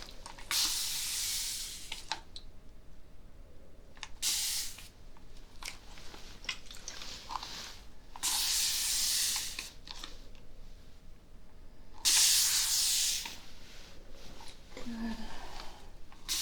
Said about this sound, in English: hold still as I spray you down.